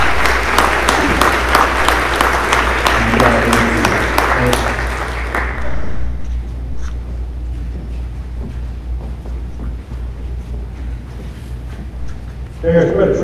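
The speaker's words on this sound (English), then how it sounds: "Please give these students a round of applause." An audience applauds students at an evening of excellence for juniors and seniors, loud sustained clapping for about six seconds that fades into a quieter room hum, with low rumble and murmuring beneath.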